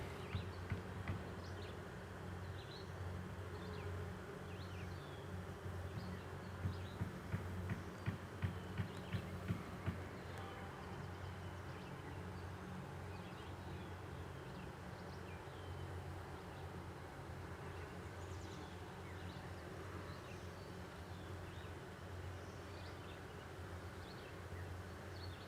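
A honeybee swarm hums as a faint, steady buzz at a distance during a swarm transfer, with no voices over it.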